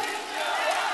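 A crowd at a political rally for a presidential candidate roars together in one brief, loud burst of shouting and cheering, dense and sustained with no single voice standing out.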